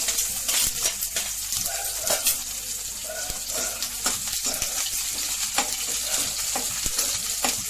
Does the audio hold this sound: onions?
yes